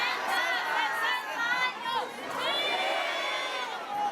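A crowd of indigenous Nasa people gathered outdoors to demand justice for slain community members, a dense, loud babble of many raised voices and shouts rising and falling together.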